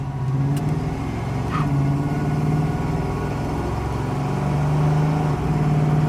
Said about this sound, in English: Run it through a couple gears, see how the tranny shifts.